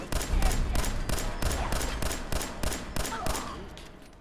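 A big gun fires in Fallout 4, a steady run of about ten heavy, booming shots at an even pace, loud and dense, each blast ringing into the next.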